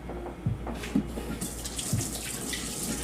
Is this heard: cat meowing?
no